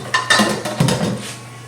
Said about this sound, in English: we are just going to strain them out in this colander